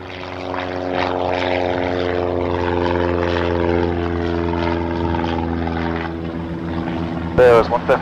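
A propeller-driven aerobatic airplane's engine drones steadily and loudly through the takeoff roll and climb, its pitch slowly shifting, with a few brief louder bursts near the end.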